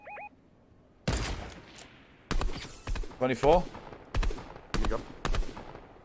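Video game gunfire erupts in several sharp, loud bursts and rapid volleys after a quiet start, with a player talking over the shots.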